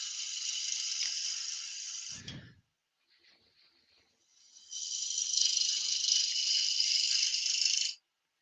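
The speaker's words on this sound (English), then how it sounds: "We'll use a spindle roughing gouge just to rough out a little bit here, just to get a bit of room." A spindle roughing gouge cuts a wooden goblet on a lathe, giving a steady, loud, close hiss of cutting that stops for about two seconds with a brief low thump and then resumes just as strongly.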